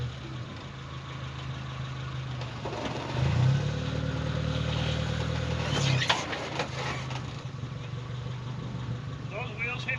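A 1987 Suzuki Samurai with its 1.3 engine, freshly fitted with a 3k carburetor, idles steadily nearby, with a brief rise in revs midway; people talk over the running engine.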